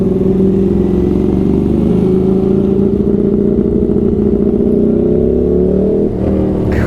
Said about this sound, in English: Caught up with this very noisy Ducati. That thing sounds lovely.